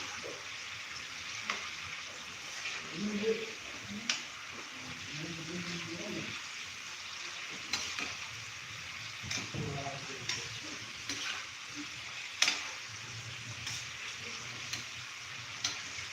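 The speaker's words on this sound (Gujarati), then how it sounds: "હવે આપણે ક્રિસ્પી તળાય ત્યાં સુધી આપણે તળી લઈશું." Potato wafers and French fries deep-fry in hot oil until crisp, a quiet, steady frying hiss running throughout, broken by scattered small pops and faint kitchen clatter.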